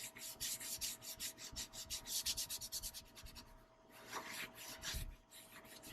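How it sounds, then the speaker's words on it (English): Steady rhythmic scrubbing as Chemical Guys leather cleaner is worked into leather, a close, repeated rubbing stroke that shifts direction partway through, with no talking. "Scrub it in two different directions. Get this rubbed in."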